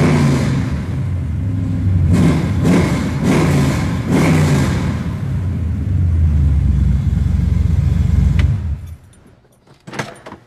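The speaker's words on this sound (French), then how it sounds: "là, on sent que c'est vraiment un moteur qui a des watts." A powerful car engine revs and accelerates with a deep, sustained roar and repeated throttle surges, staying loud and close before cutting off abruptly near the end into near silence with a few brief clicks.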